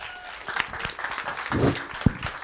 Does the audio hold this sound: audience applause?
yes